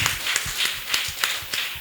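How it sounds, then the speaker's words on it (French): An audience at a Benin panel discussion applauds its panelists with light, scattered clapping that rises in a few soft surges and keeps a fairly quiet, roomy tone throughout. "est-ce qu'on peut applaudir très fort pour nos panélistes, s'il vous plaît?"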